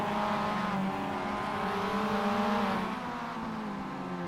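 Race cars lapping Laguna Seca in the iRacing sim, MX-5 class, with a steady engine drone holding at constant loudness through a hairpin and down into the next turn, with no talk over it.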